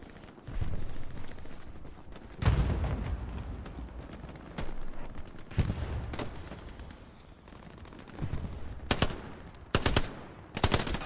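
Gunfire in the video game Stationeers: repeated bursts of shots from a hill, several sharp volleys separated by quieter gaps, with rapid clustered cracks toward the end.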